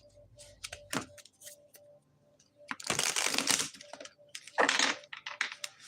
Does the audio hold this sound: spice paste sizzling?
no